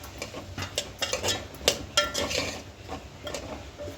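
Chopped ridge gourd stir-fried in a pan, a spatula scraping and clinking against the metal in quick irregular strokes over a soft sizzle, close by with no voices.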